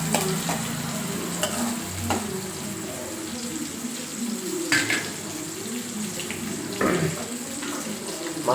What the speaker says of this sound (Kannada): ಸ್ವಲ್ಪ ಅಲ್ಲಾಡ್ಸೋಣ ಉಳ್ಳಾಗಡ್ಡಿ